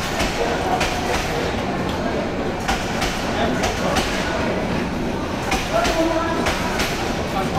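Steady rumble and clatter of the Chattala Express, a crowded intercity train in Bangladesh running like a local service, heard from on board with faint voices murmuring underneath throughout.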